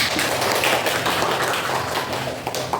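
A classroom group claps hands together for a student, a loud, close burst of quick, overlapping claps that runs steadily through the whole stretch.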